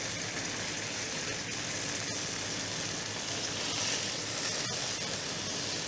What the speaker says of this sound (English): be sure to move the salmon through the whole frying pan